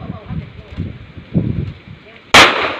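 A gunshot at shooting range practice cracks out loud and sharp near the end, following a stretch of quiet talk between people.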